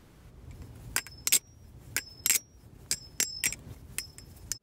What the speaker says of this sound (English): After that, it gave the Chab a slightly satisfying click and ring to it.